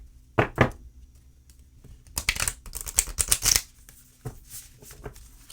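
Oracle cards being shuffled by hand: a couple of quick riffles, then a longer rapid burst of papery flicks and taps, close and crisp, ending with a soft tap.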